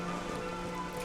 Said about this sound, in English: Sure, it's raining.